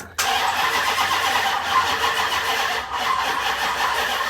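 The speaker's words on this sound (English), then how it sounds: "So I'm going to turn the vehicle over again." A Dodge Charger engine turns over in a steady, continuous slow crank with a broad rumbling whir, close and loud, without catching or any voices.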